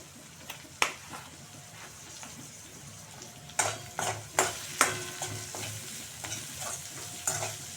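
Curry leaves and asafoetida sizzling in hot oil for bajra upma, a steady frying hiss with several sharp spattering pops and stirring clatter scattered through it, close and fairly quiet, no talking.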